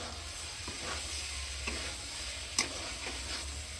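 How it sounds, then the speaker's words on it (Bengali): Peas and spices being stirred in a pan, with a soft steady sizzle and a few light scraping taps of the spoon against the metal, close and alone, with no talking. "এবার মটরটার সাথে মশলাটা সুন্দরভাবে মাখিয়ে নেব"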